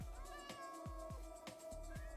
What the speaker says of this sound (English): Silly cats.